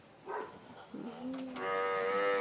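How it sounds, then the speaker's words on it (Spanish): Cows lowing on a farm, two or three drawn-out moos close by, the last one long and loud, while the animals fight at feeding time. "y esas vacas están peleando"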